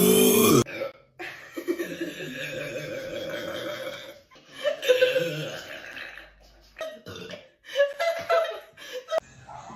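Loud burps after chugging Sprite for a Sprite challenge, several drawn-out belches in a row with laughter and chuckling between them.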